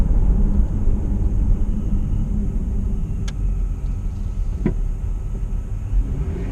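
A RIPP supercharged V6 Dodge Challenger driving at around-town speed: a steady, loud low engine and road rumble heard from inside, with a couple of faint clicks and no talk.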